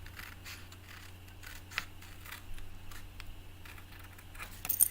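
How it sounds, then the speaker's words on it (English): Scissors cut paper for a handmade card, giving quiet, intermittent snips and rustles close by in an otherwise hushed craft room, without talk. "And then I would come in with my scissors."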